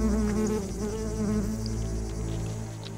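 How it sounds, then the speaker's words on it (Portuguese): A wasp only a few millimetres long buzzes in a steady, continuous drone with a wavering pitch, close and fairly loud throughout. "Esta vespa mede poucos milímetros."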